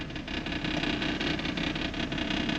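Jeep Grand Cherokee 4.0 engine running rough and surging after a wash, a steady close drone with a rattly, uneven pulsing throughout.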